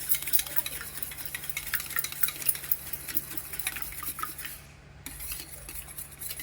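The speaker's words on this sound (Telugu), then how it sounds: "దీన్ని బాగా అయితే స్పూన్తో కానీ విస్కర్తో కానీ ఇలా అయితే గెలకొట్టేసుకోండి" Eggs beaten with salt in a bowl, a spoon or whisk scraping and clicking in a steady rapid rhythm, close and fairly loud with no voices.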